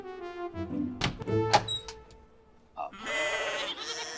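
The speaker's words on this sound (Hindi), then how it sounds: "इधर में बकरी का आवाज आता है रे" A goat bleats a few times nearby, loud and wavering, with a thump and some clattering between calls.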